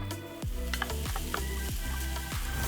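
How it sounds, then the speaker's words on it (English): Garlic and onion frying in rendered fat in a pan for Filipino pancit bihon, a steady loud sizzle with a few stirring clatters and scrapes through it. "So to that I'm going to add some garlic and some onion."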